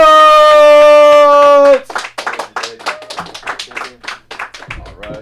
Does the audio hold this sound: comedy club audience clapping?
yes